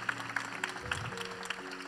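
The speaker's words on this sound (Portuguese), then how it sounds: "Levanta a mão aí, vamos aplaudir." A church congregation claps for a married couple celebrating an anniversary; sparse, rhythmic claps sound over a sustained low hum or organ tone.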